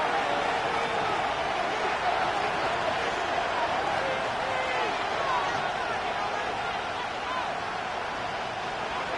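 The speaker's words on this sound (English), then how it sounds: "This crowd turning up the decibel level." A stadium crowd at a Vikings versus Lions football game roars in a dense, unbroken wall of noise that holds loud throughout, with commentary talk running over it.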